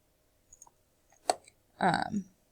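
Computer mouse clicks while highlighting rows in a document table and applying underline, a few sharp isolated clicks followed by a brief burst of louder rustling or handling noise, fairly close.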